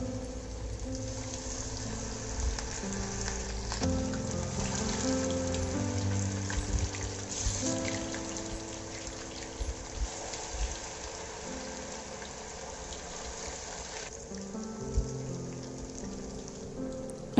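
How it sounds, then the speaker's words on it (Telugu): Chicken drumsticks deep-fry in hot oil with a dense, steady crackle and sizzle, like rain on a surface, continuing throughout at moderate volume with occasional louder pops. "డీప్ ఫ్రైకి ఆయిల్ వేడి చేసుకొని అందులో ఒక్కొక్కటిగా వేసుకొని వేపుకున్నాను"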